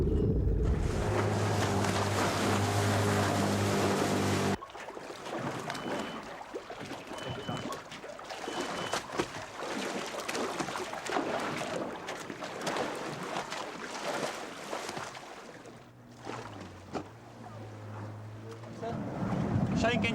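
Boat engines run at sea during a tiger shark documentary, a loud steady drone at first that drops away, leaving wind and water noise with voices talking before the engine hum returns near the end.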